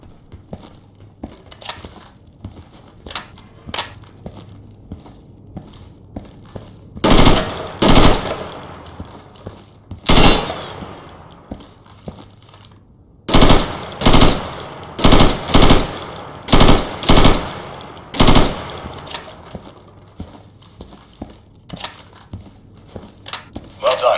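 Gunfire rings out in a warehouse-clearing training level of the video game Insurgency, with scattered single shots followed by loud bursts of rapid shots in clusters and gaps of quiet between them.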